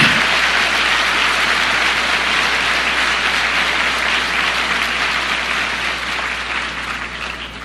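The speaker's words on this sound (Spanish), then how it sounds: "Yo creo que merece un aplauso, ¿no?" A church congregation applauds, a dense, steady wash of clapping that holds for several seconds and fades slightly toward the end, with no voices over it.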